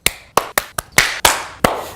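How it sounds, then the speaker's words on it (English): Sharp, close hand claps made to sync sound on a shoot: about seven crisp, separate smacks in an uneven rhythm, each ringing briefly in a quiet room with no talking. "Can I get you to do a clap?"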